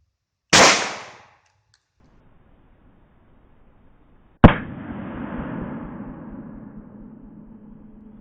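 A .45 ACP pistol firing 230-grain full metal jacket rounds at a Swiss M1918 steel helmet about 10 yards away gives two sharp, loud cracks a few seconds apart. The second is followed by a lingering ringing tail.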